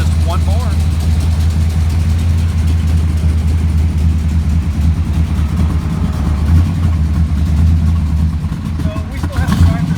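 A V8 engine in a movie-car hearse idles roughly and unevenly, misfiring and not running on all eight cylinders, a steady loud low rumble throughout while a person talks over it.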